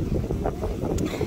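Wind gusting along the seashore at Mandae Port in Taean on a chilly early-winter day, a steady rumbling buffet on the microphone with no clear talk over it.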